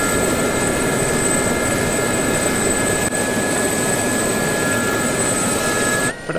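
Sa-342 Gazelle helicopter turbine engine in the DCS flight simulator, a continuous loud whine over dense rushing noise that holds steady throughout before dropping briefly at the end.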